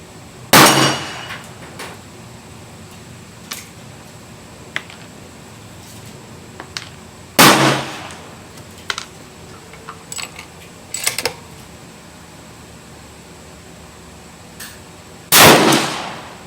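Savage Axis XP bolt-action rifle with scope being fired at a range, three sharp loud shots spaced several seconds apart, each with a short ringing decay, and small clicks and handling noises between them.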